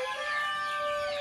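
Chickens cluck steadily in a farm poultry area, a dense continuous layer of overlapping hen calls with a sharp sustained tone running through it, loud and close throughout.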